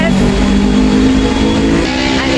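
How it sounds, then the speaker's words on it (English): A motorbike engine drones and revs steadily on a street, heard from inside an electric bus. The noise is loud and continuous and has a constant rumbling texture throughout. "I hate those annoying bike sound."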